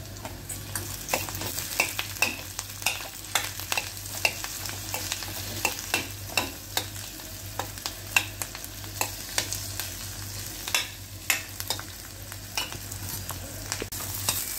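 A spoon stirs salt and coriander into a fasting dish frying in a pan, with a steady soft sizzle and repeated sharp scrapes and taps on the pan throughout, close and without talk.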